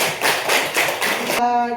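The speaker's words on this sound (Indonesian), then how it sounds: "Oke, terima kasih sama tepuk tangan." A short burst of audience clapping lasts about a second and a half, close and fairly loud, then cuts off abruptly into a steady electronic tone.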